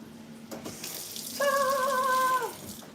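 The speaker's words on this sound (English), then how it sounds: "I've got running water again." Water runs from a kitchen sink faucet in a steady, moderate rush, with a brief tonal squeal from the tap partway through and no talk over it.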